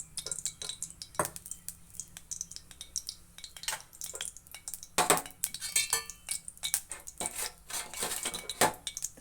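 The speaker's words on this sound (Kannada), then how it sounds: "ಮೊದಲಿಗೆ ಒಂದು ಬಾಣಲೆಯಲ್ಲಿ ಪನ್ನೀರನ್ನ ನಾನು ಸ್ವಲ್ಪ ಫ್ರೈ ಮಾಡ್ಕೊತಾ ಇದ್ದೀನಿ" Paneer frying in a little oil in a pan, heard as steady clinks and scrapes of a utensil against the pan with a light sizzle underneath, close and busy throughout.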